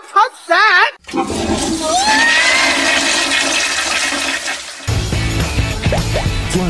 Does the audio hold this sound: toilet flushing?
yes